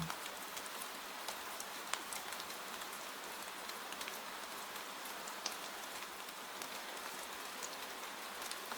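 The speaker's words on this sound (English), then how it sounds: "Let the rain wash away the remaining noise of the evening." Steady rain falls on surfaces in a quiet wilderness setting, a soft continuous patter with scattered sharper drops ticking through it, faint and even throughout.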